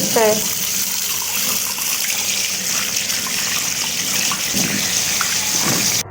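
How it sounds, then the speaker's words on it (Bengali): Tap water pours steadily and close as a child washes hands at a sink, a continuous splashing rush that runs for the whole stretch, with a voice faintly audible near the start and end. "সায়ন এখন হাত ধুয়ে খাবার খেয়ে দিবে হ্যান্ড ওয়াশ নাও তাড়াতাড়ি"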